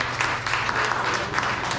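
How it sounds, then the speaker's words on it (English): Applause from an audience thanking a group at a community coffee chat meeting, a steady wash of many hands clapping that fills the short stretch at moderate level with no voices over it. "So let's give them a good applause and thank them for that."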